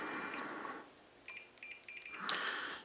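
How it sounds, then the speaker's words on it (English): A multimeter on its continuity setting sounds short electronic beeps while fuses are checked one by one in a Crown Victoria fuse box: a few faint, brief tones in a row with quiet gaps and background hiss. "and I check each one to make sure it beeps."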